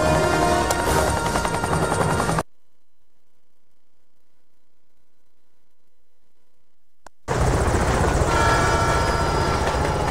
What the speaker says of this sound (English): Destroy that helicopter